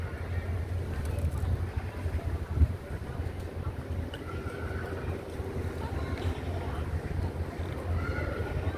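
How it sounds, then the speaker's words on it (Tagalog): Strong gusty wind buffets the microphone at a marina's south pier, a steady low rumble with water and boat noise mixed in, and faint voices now and then. "Mahangin, lumilipad yung damit ko."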